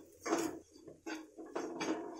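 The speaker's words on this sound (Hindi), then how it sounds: "तो मसाले को यहाँ पर हल्का सा भून लेते हैं।" Spices with salt and Kashmiri red chili powder are lightly roasted and stirred in a pan, giving a few quiet, close scraping strokes of a spoon against metal with short pauses between.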